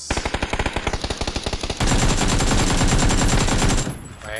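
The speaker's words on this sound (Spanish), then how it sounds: "Me dispara alguien, no sé dónde" Loud, close PUBG gunfire starts as a rhythmic string of evenly spaced shots, then turns into a dense continuous automatic burst that cuts off abruptly.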